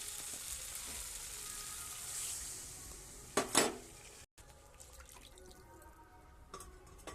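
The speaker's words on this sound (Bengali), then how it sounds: "এবার আমি জল ঢেলে দেব।" Water is poured into a pot of sautéed potatoes, bursting into a brief loud hissing splash. Quieter bubbling and a few light metallic clinks follow.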